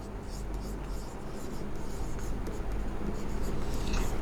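Pen or marker writing during a Class 10 geometry lesson, a faint scratchy stroking under steady low background hum, close to the microphone.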